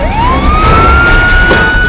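A police car siren wails close and loud, a single rising tone that climbs and then holds high, with no one speaking over it.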